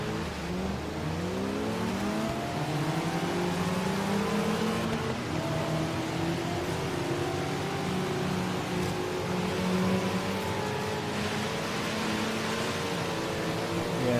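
A Corvette Z06 engine in the racing game Forza Horizon 3 drones continuously, its pitch rising and falling as it revs through the gears, steady and moderately loud with no talking.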